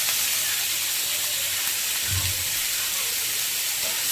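Onion and capsicum sizzle in a pan for veg momo filling, a steady bright hiss throughout with a brief low thump near the middle and no talking.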